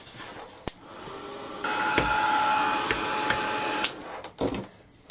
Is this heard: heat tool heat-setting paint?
yes